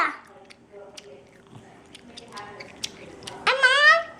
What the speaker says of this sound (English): Are you chewing?